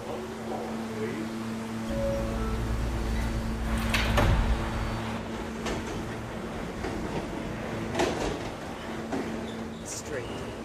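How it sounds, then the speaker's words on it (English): Subway train doors sliding shut on a local train, a heavy thud and rumble in the middle over a steady electrical hum, with a voice talking throughout. "Stand clear of the closing doors, please."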